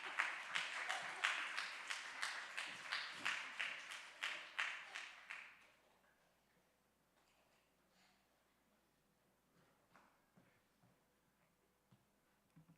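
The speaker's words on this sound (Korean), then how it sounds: "큰 박수 부탁드립니다." A church congregation at a Korean young adults' Sunday worship service claps in a quick, rhythmic beat for several seconds. The clapping is soft and a little distant, then dies away into near silence with faint room noise.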